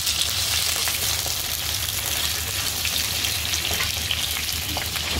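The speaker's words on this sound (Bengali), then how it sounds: "এই যে ইলিশ মাছের আলু বেগুনটা একসাথে ভেজে নিলাম।" Potatoes and eggplant fry in hot oil for a hilsa fish dish, giving a steady, dense sizzle that stays loud and even throughout with no voices.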